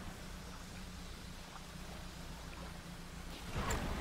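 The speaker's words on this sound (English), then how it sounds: "Oh, lightning." Thunder rolls in over steady rainfall during a stormy night at sea in the fishing game Dredge, a low rumbling bed of rain swelling into a brighter crack near the end.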